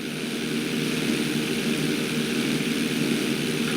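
A propeller airplane in Grand Theft Auto V drones steadily through barrel rolls, a constant broadband engine roar with a faint whine, loud and unbroken throughout.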